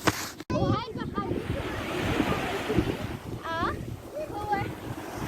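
Sea waves wash onto a beach in a steady broadband roar, with wind buffeting the microphone and voices talking over it.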